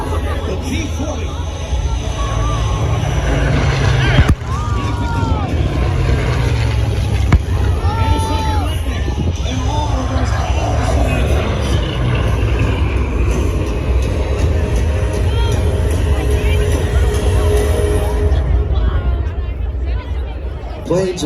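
A P-40 warbird flies at the California Capital Airshow, giving a continuous broad roar under a steady hum of crowd noise, with an announcer talking over it throughout.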